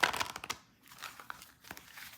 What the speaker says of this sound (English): we're going to shuffle the cards